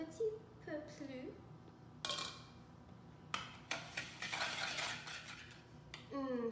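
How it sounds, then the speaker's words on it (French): Eggs being stirred into lemon madeleine batter, with a utensil clinking and scraping against a bowl in irregular bursts, close up, and a voice briefly heard in between. "Maintenant que c'est tout mélangé, on va ajouter les œufs et mélanger un petit peu plus."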